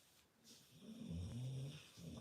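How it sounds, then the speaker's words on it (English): A dog snoring while lying on the floor indoors, a single drawn-out low rumbling snore building to a louder peak and fading, close by, with no talking. "My dog is snoring. He's laying on the floor over here snoring away."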